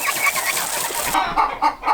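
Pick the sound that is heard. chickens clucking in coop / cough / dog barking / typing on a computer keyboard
chickens clucking in coop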